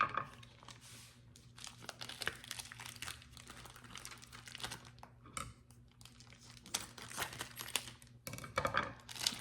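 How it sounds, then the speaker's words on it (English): Kitchen shears snip and tear through plastic packaging on ground beef, giving quiet close crinkling and crackling with short cutting clicks. "I'm just going to cut open my ground beef with my kitchen shears."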